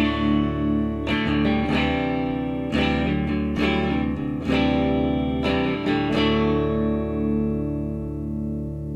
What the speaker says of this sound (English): this is the sound of my guitar clean.